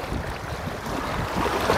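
Fast-flowing river water, cold and swift, rushes in a constant broadband roar close to the microphone, with wind buffeting and the noise swelling slightly toward the end.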